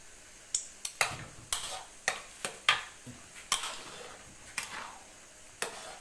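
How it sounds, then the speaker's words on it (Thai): Sugar being stirred into a pan, heard as a string of sharp utensil scrapes and clinks against the vessel at an irregular pace, close up over a soft frying hiss, with no talking. "ใส่น้ำตาล แล้วก็กวน"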